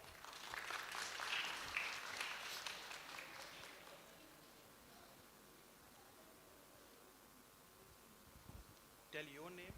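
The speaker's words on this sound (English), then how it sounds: "Let's clap for her here." Audience clapping for a young woman at a campus industry interaction session, a burst of applause in the first few seconds that fades into room quiet, with a voice starting up at the very end.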